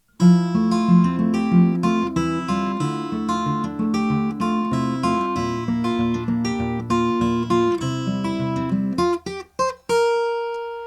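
Fingerpicked guitar chords ring over a walking bass line at a steady moderate pace, clear and close, ending on a few sparse notes.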